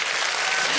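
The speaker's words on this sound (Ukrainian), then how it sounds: "Ваші оплески Євгену Хмарі." A burst of applause from a large television talent show audience, dense steady clapping, loud and continuous.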